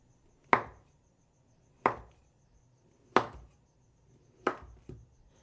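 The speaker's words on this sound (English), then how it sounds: "I'm going to cut the cookies about 1/4 inch thick." A knife cuts through chilled pinwheel cookie dough in four separate slices, each a crisp thunk against a board followed by a short quiet gap, close and clear with no talk.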